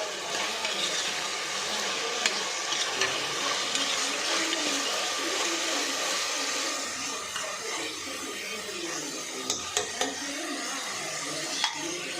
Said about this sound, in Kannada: ಟೊಮ್ಯಾಟೊ ಸಾಫ್ಟ್ ಆಗೋ ತನಕ ಫ್ರೈ ಮಾಡಿಕೊಂಡು